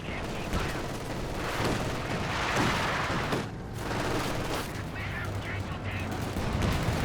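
Machine gun fire and artillery barrage in a Company of Heroes 2 battle, a sustained roar of rapid gunfire and booming impacts layered throughout, with a voice talking over the combat.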